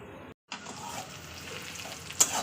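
Onions fry in a pan with a soft continuous sizzle, broken by a brief silent gap near the start, then steady crackling with a small stir or clink toward the end.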